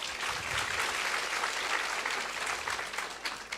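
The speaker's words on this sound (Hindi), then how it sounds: "सवाल के लिए तालियां बजाइए" Sustained applause from an audience at a spiritual discourse, dense steady clapping with no voices, lasting the whole stretch.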